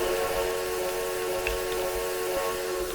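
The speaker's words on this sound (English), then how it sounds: "cylinder cock steam." Cylinder cocks open on a narrow gauge steam locomotive of the Clear Creek Narrow Gauge Railroad, releasing a steady, loud hiss of venting steam with a faint whistle-like tone riding over it, continuous throughout with no talking.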